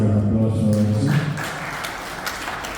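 Brief, thin clapping from a small audience at a tech talk greets the speaker Rexford, following a moment of voice and tapering into a few scattered claps.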